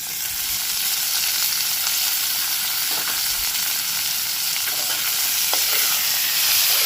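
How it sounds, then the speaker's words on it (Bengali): Chopped onion, slit green chilies, tomato and garlic sizzle together in hot oil, a loud continuous frying hiss with faint occasional stirring, heard close and without talk. "আর দিয়ে দেবো একটা গোটা পেঁয়াজ কুচি দুটো চেরা কাঁচা লঙ্কা আর একটা মিডিয়াম সাইজের টমেটো এগুলো সব একসাথে ভাজবো"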